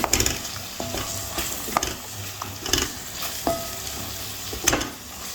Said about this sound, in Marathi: सगळे मसाले असे छान परतून होतात आहे